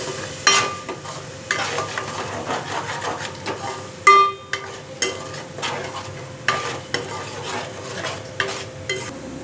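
Tomato paste frying in a pan: low sizzle beneath regular scraping stirs and sharp knocks of a spoon against the pan, close and rhythmic.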